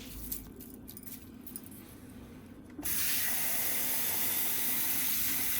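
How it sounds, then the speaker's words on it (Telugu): Grains for dosa batter rinsed in a bowl of water in a home kitchen: a steady, close splashing and swishing wash starts abruptly partway through and continues loudly to the end, after a quieter stretch with faint handling clinks. "కడిగి 2-3 సార్లు కడిగి పెడతాను."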